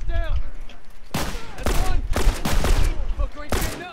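Gunfire in The Last of Us video game, with several loud shots cracking in rapid bursts alongside a player's voice.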